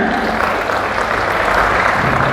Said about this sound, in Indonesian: Tepuk tangan dulu untuk beliau ya.